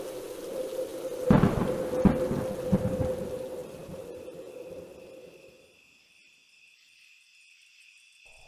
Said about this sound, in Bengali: ঝড় এসে সমস্ত অরণ্যকে জাগিয়ে দিয়ে গেছে। এখন বৃষ্টি পড়ছে মুষলধারে।